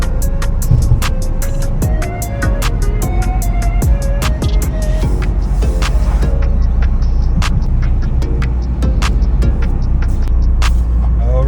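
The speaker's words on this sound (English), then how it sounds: "That's giving you a quick little back of the road driving with the GRC." Toyota GR Corolla driving along a back road, a steady engine and road hum from inside the car with rhythmic clicking ticks over it, continuous and fairly loud.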